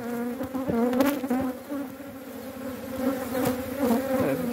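Honeybees buzz steadily around an open hive during a beekeeping inspection, a close, dense drone that swells and dips without pause.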